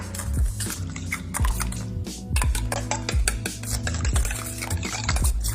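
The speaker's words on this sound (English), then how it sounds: "Then we just whisk that up." Homemade cocktail sauce is whisked briskly in a bowl, a close steady scraping and clinking of the whisk against the bowl that runs without a break and swells in rhythmic strokes, with no talking.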